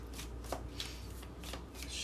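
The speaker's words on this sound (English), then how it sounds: "We're just going to shuffle and go." A deck of Runic Tarot cards being shuffled by hand, a series of soft riffling bursts in a quiet room, close and faint, with no talk.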